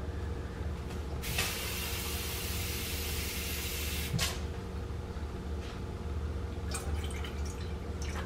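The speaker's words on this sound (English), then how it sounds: "In our rice cooker, 2 cups of water." Water poured into a rice cooker for lime rice: a steady broadband pouring hiss over a low hum, with a stronger burst near the start and brief splashy drips later, fairly close, no talk.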